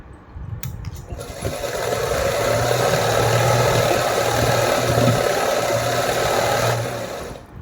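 A sewing machine stitches fabric close by, running in one steady, whirring burst of several seconds with a rhythmic mechanical hum and no talking.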